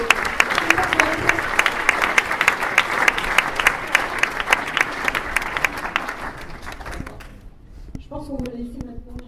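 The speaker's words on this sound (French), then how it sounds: "Je voudrais qu'on les applaudisse encore une fois très fort." Sustained applause from a crowd at a political meeting in Marseille, dense and steady, fading after about seven seconds as a voice begins speaking.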